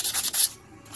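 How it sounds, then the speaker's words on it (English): Finish sanding by hand with 400-grit paper on the handle area of a custom Bowie knife: a few quick, close rasping strokes in a half-second burst, then quiet. "I need to take some do some finish sanding right here"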